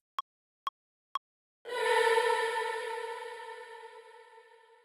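Three short, evenly spaced beeps give way to a sung vocal syllable smeared into a long, shimmering reverb wash that swells and then slowly fades. Heard alone, with no talk.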